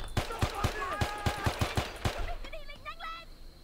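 Rapid gunfire in the video game Men of Valor, a quick rhythmic string of about ten sharp shots in the first two seconds, followed by fainter chirping game sounds.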